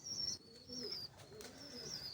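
Soft, low coos come from nearby high-flying pigeons, gentle and repeated, with light chirps and faint background noise.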